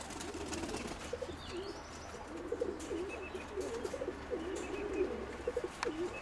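Young pigeons coo softly and repeatedly at moderate distance outdoors, with a few faint chirps from other birds and low background noise.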